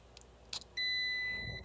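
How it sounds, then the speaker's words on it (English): Multimeter in continuity mode emitting a sustained electronic beep as its probes meet, a clear steady tone after a few faint clicks, close and alone. "I'm gonna put our meter in continuity mode where the probes will beep if you touch them together"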